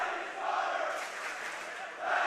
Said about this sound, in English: Physical game. Crowd getting into it.